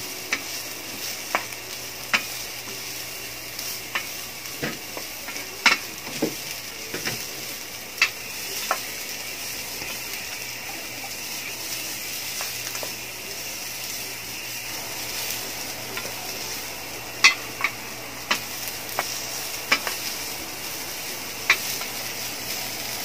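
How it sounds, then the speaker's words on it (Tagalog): Carrots sautéing in a pan for a cabbage-and-egg dish, a steady soft sizzle with scattered scrapes and taps of a utensil stirring, no voices. "isunod natin yung ating carrots. Konting gisa-gisa lang."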